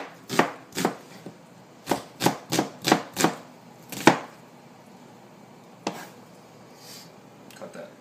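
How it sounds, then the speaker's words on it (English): Onions are chopped into half moons with a knife on a cutting board, about a dozen crisp, close knocks in an irregular rhythm with pauses between bursts. "we're going to chop some onions"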